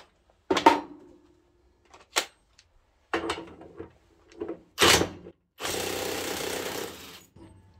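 Parkside Performance PASSP 20 Li A2 cordless impact wrench, rated at 700 Nm, loosening bolts: several short loud rattling bursts separated by pauses, finishing with a longer sustained hammering run, close by with no talk.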